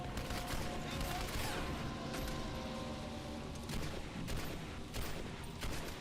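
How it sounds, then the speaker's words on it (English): Rapid gunfire bursts and mechanical clatter from the video game Metroid: Other M, steady and dense throughout with booming impacts layered over a noisy battle backdrop. "He's just shooting people."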